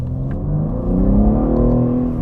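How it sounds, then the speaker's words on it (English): A BMW G80 M3 fitted with an Aulitzky exhaust revs loudly and steadily, its engine note rising and holding through a sustained throttle blip with no talking. "With the exhaust installed, we can now check what it sounds like."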